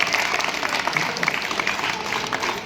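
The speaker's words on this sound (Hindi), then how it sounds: "तो ताली तो बजा दो यार।" A crowd at a Delhi 2025 election rally in Patel Nagar claps steadily and densely for a BJP candidate, with scattered voices mixed into the continuous applause.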